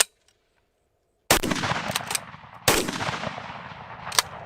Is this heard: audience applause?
no